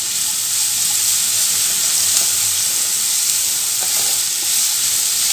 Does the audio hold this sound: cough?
no